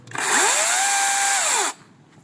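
Worcraft CGC S40LiBA cordless battery chainsaw spun up with no load for an oil pump check: a loud, steady high whine rising at start-up, holding about a second, then winding down, heard alone.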